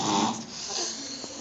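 A child snores in one loud, close, rasping breath that fades into a softer, throaty rattle.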